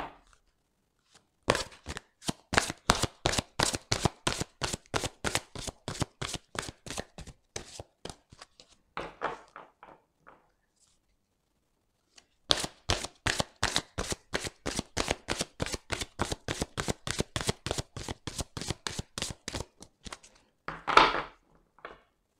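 Oracle love angel cards being shuffled, a long run of fast rhythmic riffling taps, a pause of near silence, then a second equally steady shuffling run ending in a louder flourish.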